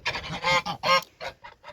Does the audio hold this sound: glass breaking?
no